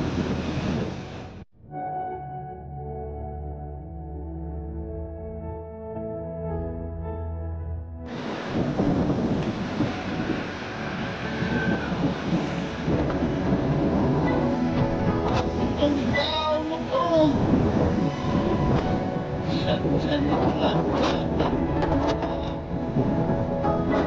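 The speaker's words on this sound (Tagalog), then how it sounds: "sobrang lakas na ng bagyo dito sa Mindoro" A strong typhoon batters Mindoro with a constant heavy roar of wind and rain, loud and unbroken, swelling into thicker gusting noise partway through with no clear voices above it.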